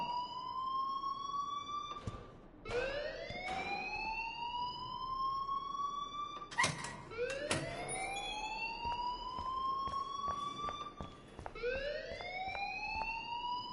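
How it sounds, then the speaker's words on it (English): Alarm in a video game: a rising, wailing siren tone that repeats in sweeping cycles roughly every two seconds, fairly faint under low background noise. "please turn off that alarm since that's your job"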